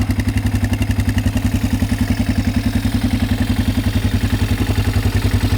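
A 600cc street-legal dirt bike engine idles steadily up close, a loud, even, rapid thumping pulse with mechanical clatter, running alone without any voices.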